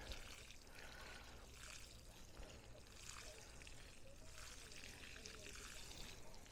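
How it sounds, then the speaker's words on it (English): Water gently poured from a watering can onto a seeded raised garden bed in a Texas vegetable garden, a soft continuous splashing trickle close by. "So just try to gently water this in."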